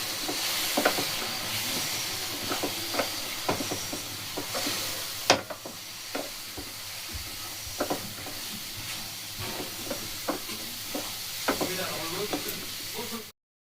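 Besan and jaggery are stirred together in a pan over a low flame for laddu, with a soft sizzle under repeated scraping strokes of a spoon and one sharper knock midway.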